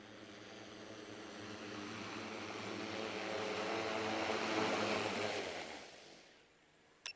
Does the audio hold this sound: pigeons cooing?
no